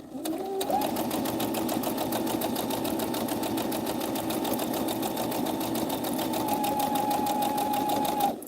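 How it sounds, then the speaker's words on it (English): A home sewing machine runs its needle through fabric at a steady speed, a close, continuous motor whir with rapid stitching that holds for several seconds without pause. "let the needle and the machine just do it all by themselves"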